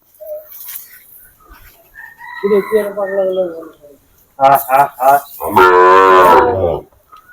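Sahiwal bull calves low with deep, drawn-out moos at a cattle market, one call in the middle and a louder, longer one near the end, with a voice talking in between.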